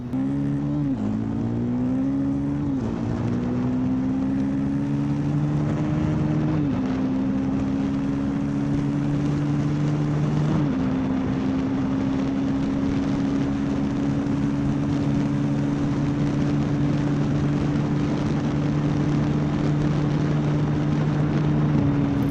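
A 2019 Ducati Scrambler Icon accelerates hard in a top speed test, its engine note climbing through several gear changes. It then holds a loud, steady high-speed drone, heard close with wind rush and no voices.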